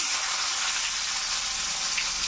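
Chopped onions frying in hot oil, a steady loud hiss and sizzle with no talk over it.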